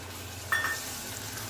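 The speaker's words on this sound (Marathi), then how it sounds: "1-2 मिनिटं आपण टोमॅटो असे परतवूया तेलात आणि थोडे नरम करेपर्यंत ह्याला शिजवूया." Tomatoes and onion fry in oil in a pan with a soft, faint sizzle, marked by a brief clink of utensil against pan, alone with no voices.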